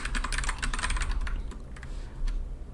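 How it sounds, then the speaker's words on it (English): Rapid clicking of keys on a computer keyboard, a steady close flurry of keystrokes that thins out toward the end, with no talking. "I will just type for him."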